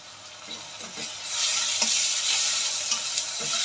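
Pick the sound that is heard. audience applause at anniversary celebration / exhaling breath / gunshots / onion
onion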